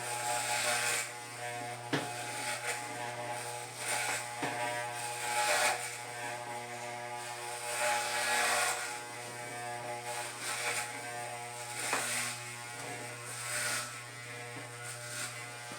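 Electric clippers shave off the remaining hair, buzzing steadily and close throughout with a constant hum that shifts slightly in tone as they move against the hair.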